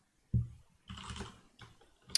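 Typing on a computer keyboard: a short burst of several quick close-up key clicks, followed by a sharp click at the end, with no speech.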